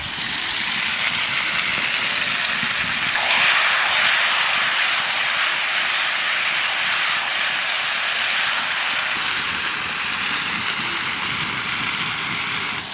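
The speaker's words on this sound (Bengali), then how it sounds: "চিংড়ি মাছ দিয়ে একটু নাড়াচাড়া দিলাম" Prawns stirred in a pan with pumpkin and bottle gourd, giving a steady, fairly loud hiss of frying that runs unbroken throughout, with no talking.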